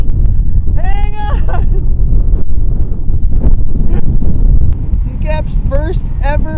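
Strong wind buffets the microphone on a surf beach, a loud, constant low roar filling the whole stretch, with people shouting and calling out over it at two points.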